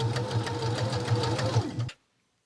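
A sewing machine stitches a seam on a basic garment, running with a fast, even mechanical chatter for about two seconds before stopping abruptly, close and clear with no talking.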